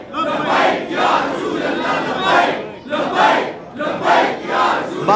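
Outside, a large crowd at a 12 Rabi ul Awal procession in Samnabad, Lahore, chants together in about five loud rhythmic bursts with short gaps between them.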